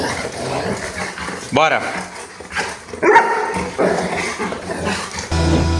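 A small, freshly groomed female dog whimpers and gives short yips and barks in bursts before a walk, close by, while a person talks over and between the sounds.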